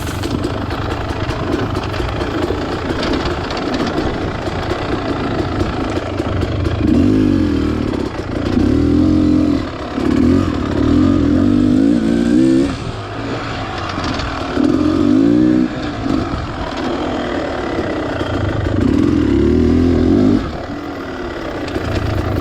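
A Beta Xtrainer 300 dirt bike climbs a loose, whitewashed hill on a practice lap, its two-stroke engine revving in repeated loud surges between steadier throttle, close and continuous with no talk.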